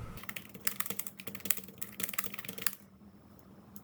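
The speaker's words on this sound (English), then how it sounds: "it does also allow for quiet typing because the click of the keys is not very" Quiet typing on a mechanical keyboard: a quick, close run of soft key clicks for almost three seconds, then near silence.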